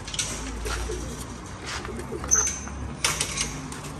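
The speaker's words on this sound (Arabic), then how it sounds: "شوف هاي الطير من شلون حلوه" Pigeons coo softly in low, rolling calls, with a few wing flaps and faint background voices nearby.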